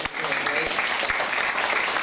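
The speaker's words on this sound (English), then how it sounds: "Nice round of applause for these volunteers." Applause from an after-prom crowd for hypnosis show volunteers, a steady wash of clapping filling the room throughout, with some voices mixed in.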